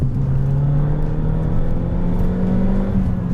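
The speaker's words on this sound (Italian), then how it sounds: "Anche questo scarico per essere omologato suona piuttosto bene." Abarth 'Fat Five' tuned by Romeo Ferraris, turbocharged with an enlarged intercooler and a road-legal exhaust, holds a steady, loud, deep engine drone with a rising whirring tone throughout, no voices.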